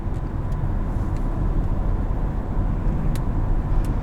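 A 2017 Infiniti QX30 driving in sport mode, heard from inside the cabin as a steady, loud low engine and road drone at constant speed, with faint ticks now and then and no talking.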